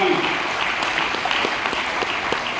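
Sustained audience applause at a Haryana chief minister's Vedic event in Gurugram, offered as tribute to martyrs, a steady dense wash of many hands clapping throughout at even loudness.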